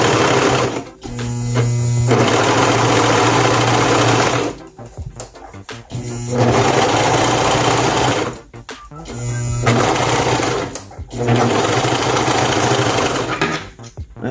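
A Brother sewing machine, likely the 1634DX or 2340CV, stitches a hem in loud, close bursts of rapid mechanical whirring, stopping and restarting several times with short pauses between runs.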